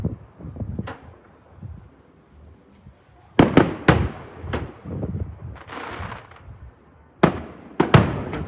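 New Year fireworks burst in a series of sharp, loud booms and crackles, some in quick doubles, with quieter gaps and faint background voices between the blasts.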